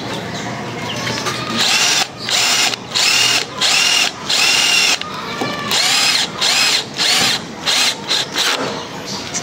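A power drill drives a screw into wood in repeated bursts of loud whirring with short pauses between them, close up, with no talking.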